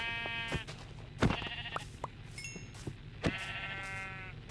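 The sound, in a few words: sheep bleating in a video game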